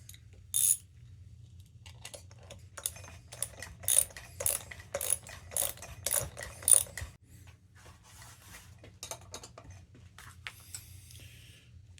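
The compression nut on a 1958 Homelite Zip chainsaw is tightened with a ratchet: a run of sharp clicking bursts in uneven rhythm, close and fairly loud, thinning to lighter metallic ticks near the end.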